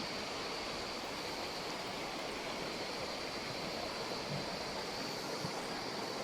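Kalakkad Thalaiyanai waterfall pours in a steady, broad rushing hiss of falling water, constant and unbroken, heard from a moderate distance with no voices.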